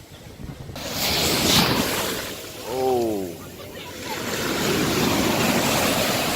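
Steady broadband surf wash from waves on a beach near Puerto Vallarta, Mexico, with wind buffeting the microphone and a brief voice exclaiming near the middle.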